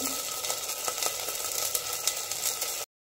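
Water in a pot for jeera rice seethes at a steady rolling boil, a dense hissing bubble that runs evenly before cutting off abruptly at the end.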